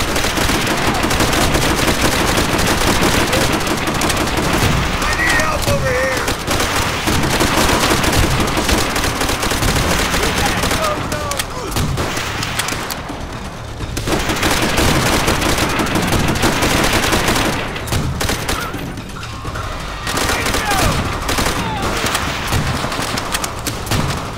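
Relentless machine gun fire and the din of battle on a World War II beach assault in Call of Duty: World at War, loud and continuous, with only brief dips in intensity.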